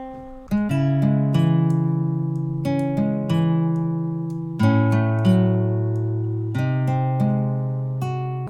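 Keyboard chords bounce in a Spanish-style triplet rhythm, each attack ringing and decaying in clear repeated groups, moderately loud with no voices.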